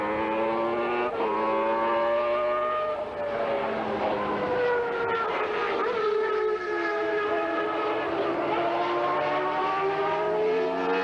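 A 1990 Williams Formula One car driven by Thierry Boutsen laps the Kyalami circuit in testing, its engine screaming steadily through upshifts and downshifts, the pitch climbing and falling continuously as it passes, loud and alone.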